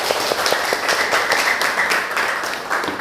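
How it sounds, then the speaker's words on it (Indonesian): A small audience claps for a presenter during a teacher-training performance session at an Indonesian university, with a steady burst of applause lasting a few seconds. "Tepuk tangan buat Gima."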